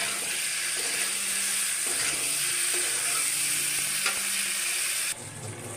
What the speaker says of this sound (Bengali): দেখো বন্ধুরা, কচুরমুখীটি ভাজা বসাই দিছি।